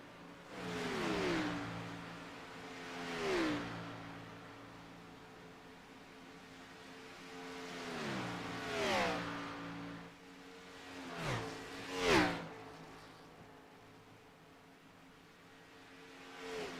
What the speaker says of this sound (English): Kinder still holding on to about a 3/4 second advantage over Camper